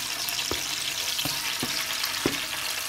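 Shrimp dropped into a little hot oil in a pan, giving a steady bright crackling sizzle with several sharper pops and splatters spaced through it, close and moderately loud with no talking.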